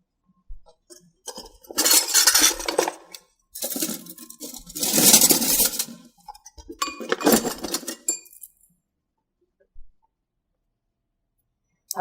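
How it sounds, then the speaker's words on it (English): A metal whisk beats an olive oil and acid salad dressing in a bowl in three rapid clinking bursts separated by pauses, then a few faint taps. "I'm just going to give the dressing a little whisk"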